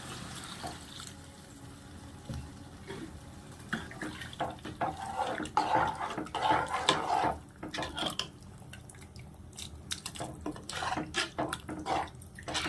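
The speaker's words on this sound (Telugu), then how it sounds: "వాటర్ వేసేద్దాం, తగినంత వాటర్." Water poured into a pot of boti (goat tripe) curry in a pressure cooker, a running, splashing stream that swells in the middle, then drips and settles, with no talk.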